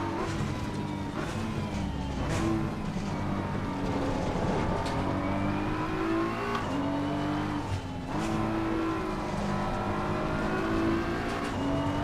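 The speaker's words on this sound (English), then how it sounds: "Leopard Frog really wringing the neck out of that McLaren through the corners." A McLaren race car in Assetto Corsa Competizione revs hard through corners, the engine note rising and falling steadily with repeated gear changes and a sustained loud drone and no pauses.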